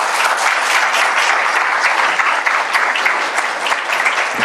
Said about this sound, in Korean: 올라오실 때 우리 보내주신 하나님께 감사와 영광의 박수 올려드리겠습니다.